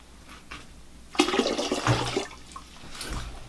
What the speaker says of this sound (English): it's settled already to the bottom, so I can decant the water off the top.